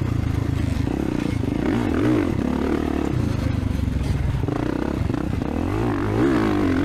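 A 450 dirt bike on a motocross track, its engine droning loud and continuous with rising and falling pitch as the throttle changes, plus clatter and wind rush.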